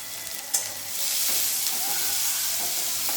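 Chopped onion and green chilli go into a hot pan, where a sizzle and crackle swell up after a soft clatter and then hold steady and close.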